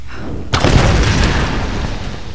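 A single loud, sharp gunshot in the video game Tomb Raider, booming close up and trailing into a rumbling echo that slowly fades.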